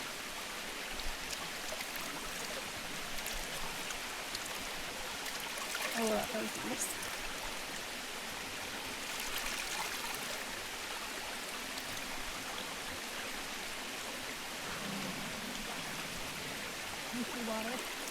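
Stream water flows steadily on a hiking trail in Devil's Den State Park, Arkansas, a close continuous rushing and trickling that runs throughout, with a person speaking briefly over it.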